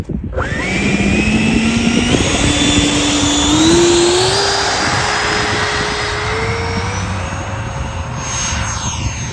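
A Freewing Hornet RC scale model F-18 jet taking off, its electric ducted fan whining loudly and rising steadily in pitch as it climbs away, a continuous close roar with no talking.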